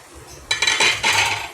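A metal lid clanks onto a cooking pot of boiling pork nilaga stew, making a few loud clinking hits followed by a brief rattling settle.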